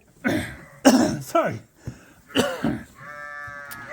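A man coughs and clears his throat after getting straw caught in it in a sheep barn, with a few close, rough hacking bursts followed by a brief faint bleat in the background.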